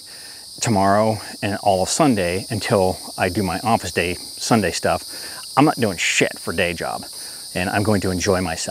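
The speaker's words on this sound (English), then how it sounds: "you can hear the cicadas singing because they're thrilled too" Cicadas on a fine day keep up a continuous high buzzing drone throughout, running under a person who talks close by.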